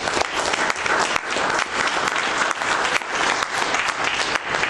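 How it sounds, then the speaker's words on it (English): A crowd applauds itself at a political address by Rev. Aaron Wheeler, a loud, continuous roar of clapping with sharp individual claps standing out through the whole stretch. "Can we give ourselves an applause?"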